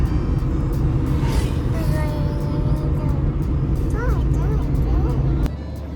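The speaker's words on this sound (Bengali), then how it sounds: "আর এই বৃষ্টির মধ্যে খুব আস্তে আস্তে গাড়ি চালাচ্ছি।" Car creeping slowly along a road near Purulia toward Futiari Dam through a heavy downpour, with a steady low engine rumble and dense rain noise throughout, voices talking over it.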